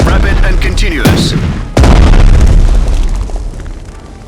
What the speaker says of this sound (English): Fire, rapid and continuous.